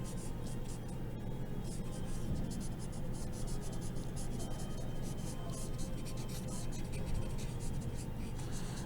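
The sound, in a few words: blending stump rubbing pencil drawing on paper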